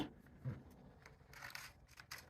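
Scissors cut out a vinyl reindeer shape with faint, close snips and crisp crackling rustles of the material, spaced irregularly with no talking.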